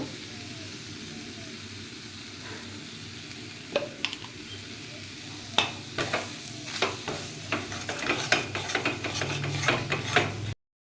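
Ground spice mix of ginger, cumin, fennel, cinnamon, bay leaf and dried chilli frying in a pan, with soft sizzling and a series of scraping stirs and clicks growing busier toward the end.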